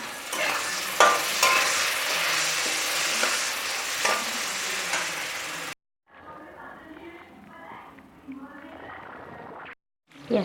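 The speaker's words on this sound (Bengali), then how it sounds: "এবার কুচিয়ে রাখা পেঁয়াজটা ভেজে নেব," Chopped onions fry in a pan with loud sizzling and stirring, then a quieter stretch where the frying continues more softly with some scraping, briefly cut to silence twice.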